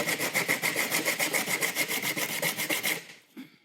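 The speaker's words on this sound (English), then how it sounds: "I'm gonna go ahead and just use some sandpaper here and just go for it." Sandpaper worked by hand over hardened J-B Weld epoxy molded into a custom adapter block, a quick, steady back-and-forth rasping close by that stops abruptly near the end.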